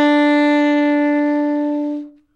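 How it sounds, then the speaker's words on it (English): A jazz saxophone sounds a single sustained tone with a quick grace-note inflection at the start, holding steady and close for about two seconds before cutting off cleanly, played alone. "a grace note might sound like this."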